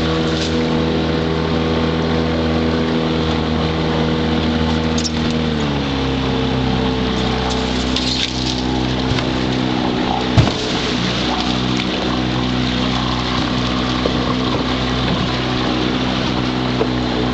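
A V-front motorboat runs through a bayou in the Bayou Meto woods, its loud, close engine droning steadily and dropping pitch partway through, with a sharp knock midway and no speech.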